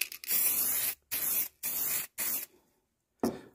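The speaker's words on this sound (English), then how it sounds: "It's just a bit easier doing the grates, etc., with the old spray can of heatproof paint" Spray can of heatproof paint being applied to a fireplace grate in four short hissing bursts separated by brief pauses, then a fainter fifth burst after a longer gap.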